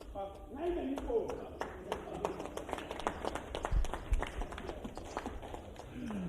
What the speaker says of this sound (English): A big round of applause for the Ensemble Arts Acres